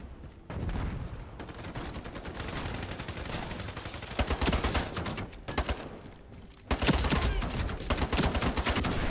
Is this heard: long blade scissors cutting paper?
no